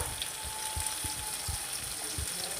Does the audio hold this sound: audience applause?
no